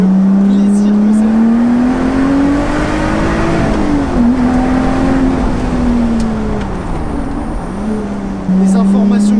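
A Lotus Exige V6 S 3.5 sports car's engine pulls hard and steadily through a run of tight road curves, its note climbing and dipping with each shift. The engine stays loud and close throughout, with a brief lift near the end.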